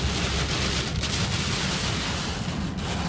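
Heavy rain from a thunderstorm pounds a moving car during the drive, a dense, steady hiss and drumming on the roof and glass with low rumble underneath, no voices.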